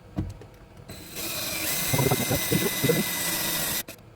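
A small drill whirs steadily for a few seconds with grinding, chattering bursts as it bites into a metal fork, then stops abruptly.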